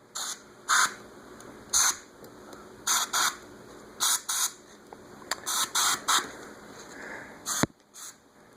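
Fader cleaner lubricant sprayed from an aerosol can onto the drawbars of a Hammond A100 organ, heard as about ten short, close hissing bursts in an uneven rhythm, with no talking.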